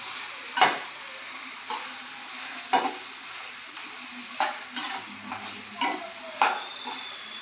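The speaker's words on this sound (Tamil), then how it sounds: "நல்லா கிளறி விடணும்." Quail pieces being stirred into masala gravy in a pan, with a spoon scraping and knocking against the metal at irregular intervals over a soft background sizzle, close and fairly quiet.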